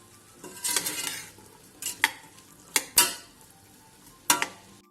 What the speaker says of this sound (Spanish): Vamos a ir rehogando y dándole unas vueltas hasta que estén cocinadas las verduras